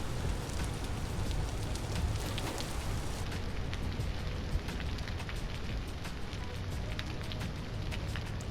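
Rain pours in Vintage Story, a dense, continuous hiss with scattered sharp drop ticks growing more distinct partway through, loud and unbroken, no talking.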